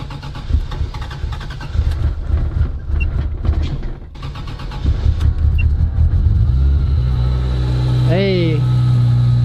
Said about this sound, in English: that's not too bad for an E85 cold start